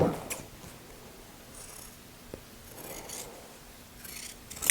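Scissors trim excess flannel fabric from a dress in several quiet, separate snips and rasping cuts against a hushed room background.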